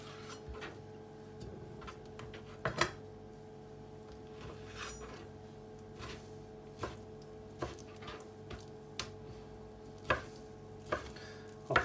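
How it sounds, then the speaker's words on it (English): A knife cuts raw meat chunks in half for fermented high meat. The chops land as sharp, separate thuds on a board, spaced irregularly about a second apart, close up and with no voices. "They may be a bit big, so I'm going to chop them in half."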